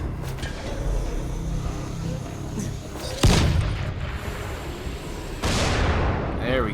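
Sharp blasts from a tank blown up in Dying Light, two loud booms a couple of seconds apart that ring out over a steady background rumble.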